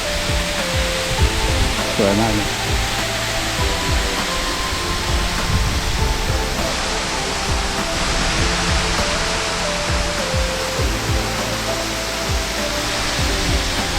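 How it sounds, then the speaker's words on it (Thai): Tad Mok waterfall in Phetchabun, Thailand, a loud, steady roar of falling water that fills the whole scene, with someone speaking briefly over it. "อันนี้เป็นน้ำตกที่ น่าจะสูงที่สุดในประเทศไทยแล้วนะครับ"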